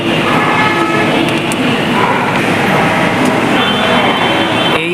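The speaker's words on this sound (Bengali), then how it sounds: "এই দেখুন চোদ্দ নম্বর প্ল্যাটফর্মে ট্রেনটি দিয়েছে" A passenger train stands at platform fourteen of a busy railway station, giving a steady, loud rumble of carriages and station noise throughout with no clear speech over it.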